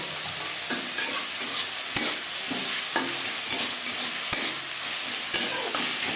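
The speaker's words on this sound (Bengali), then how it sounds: "পেঁয়াজের সাথে টমেটো বেশ ভালো করে মিক্স করে দেবো" Chopped tomatoes and onions frying in a pan, a steady close hiss broken by repeated scraping strokes of a spoon stirring them for a fish-roe curry.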